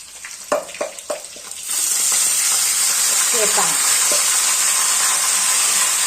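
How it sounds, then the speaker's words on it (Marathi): Fresh fenugreek leaves dropped into a pan of fried garlic and onion, a few sharp knocks and scrapes, then a sudden loud, steady sizzle and hiss that continues to the end, close up. "लसूण छान फ्राय झालंय आता ही भाजी टाकून घ्यायची"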